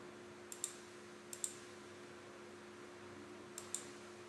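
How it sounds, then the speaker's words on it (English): Computer mouse clicks in a quiet room, three separate double clicks, each a sharp press and release, small and close against faint background hum. "so I'll just click on date and time"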